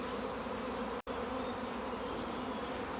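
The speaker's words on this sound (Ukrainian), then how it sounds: "Тому і такий шум на пасіці стоїть. Так, да, всі бджоли вже злетіли." Dense, steady buzzing of a large honeybee swarm at an apiary fills the air continuously, with a brief dropout near the one-second mark.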